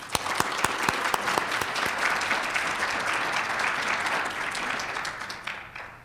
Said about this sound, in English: So please just let me give you a round of applause